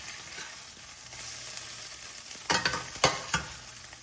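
Egg fries lightly in an oiled pan for egg fried rice, giving a steady bright sizzle. Near the end come a few close scraping clatters of a spatula against the pan. No one speaks.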